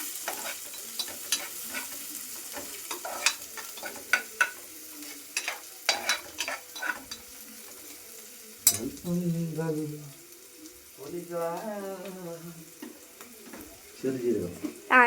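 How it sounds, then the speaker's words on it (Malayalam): Onions sauté in a pan with a low crackling sizzle and spatula scrapes, punctuated by sharp stirring knocks, while someone talks intermittently over the cooking. "സവോള ഇട്ടു. ഒന്ന് വഴറ്റണം."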